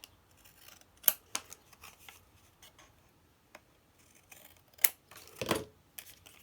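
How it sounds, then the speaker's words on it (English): Scissors snip away excess paper from handmade junk journal tags, a few sharp close cuts at irregular intervals with a longer rustling slice near the end, over a quiet room with no talk. "And then just cut off the excess."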